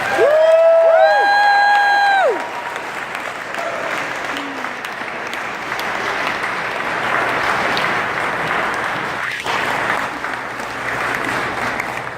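A crowd at a Naval Nuclear Power Training graduation ceremony applauds steadily and loudly throughout, opening with a rising whistle or whoop over the clapping.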